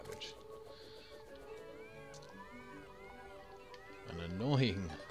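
Meowmere sword in Terraria firing off a rapid run of cartoonish cat meows layered over game music, ending in a louder, rising yowl.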